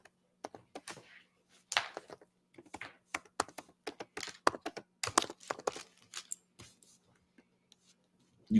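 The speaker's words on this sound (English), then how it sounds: "I'm typing it in right now for it" Irregular bursts of keystrokes clatter on a computer keyboard, close and fairly quiet, with short pauses between runs of typing and a faint steady hum underneath.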